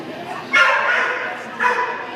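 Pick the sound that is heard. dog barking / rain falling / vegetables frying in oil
dog barking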